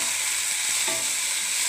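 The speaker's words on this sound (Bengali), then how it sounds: "পেঁয়াজ ভেন্ডি দুটোই ভাজতে দিয়েছি বন্ধুরা" Onion, okra and tomato sizzle and fry in a pan, a loud, steady close crackle with faint stirring.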